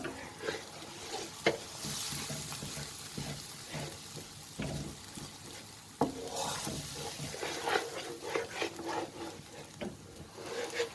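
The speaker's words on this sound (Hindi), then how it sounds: "टमाटो प्यूरी, दही और इस मसाले को अच्छी तरह भूनूंगी ताकि इसका कच्चापन खत्म हो जाए।" Tomato puree, yogurt and masala frying in a pan for chicken tikka biryani, with a steady sizzle and repeated scraping stirs close up, no talking.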